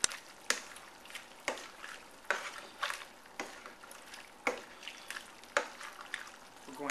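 Shrimp being stirred in a simmering pot with potatoes and carrots, a series of soft, periodic scraping and clinking strokes over a low bubbling background, close by with no talk.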